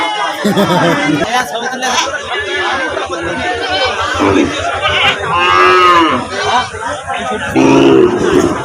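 Cattle low loudly and repeatedly at a village cattle market, long drawn moos rising over a constant crowd chatter and nearby voices talking.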